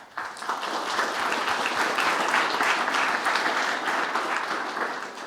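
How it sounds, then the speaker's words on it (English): Conference audience at a space resources event breaks into sustained applause, many hands clapping densely and steadily close by, holding level for several seconds before easing slightly at the end. "So last round of applause, please."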